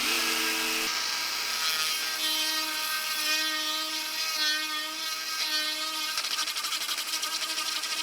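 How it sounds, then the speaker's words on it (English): A high-pitched Dremel rotary tool whines steadily and close, drilling out lead, its pitch shifting slightly as it bites into the metal. "I'm gonna drill out more with the Dremel in there even."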